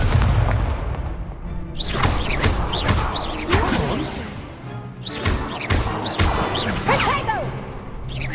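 Fiery spell blasts from the Incendio charm in the Hogwarts Legacy game, several sharp bursts and crashing impacts repeating over busy battle noise, with whooshing streaks between hits.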